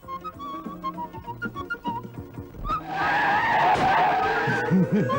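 A truck skids toward a crash, with loud rising tire squeal and engine roar building over the second half after tonal music and voices earlier.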